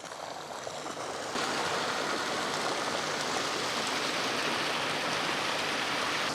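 Water from a SmartBot Super 3600 pump pours steadily out of a garden hose, a continuous close splashing rush that jumps louder after the first second and then holds constant.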